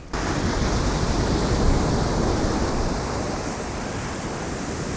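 Ocean surf on Mahabalipuram beach near Chennai, a steady broad wash of breaking waves heard up close and loud, continuous with a slight swell in the middle and no voices.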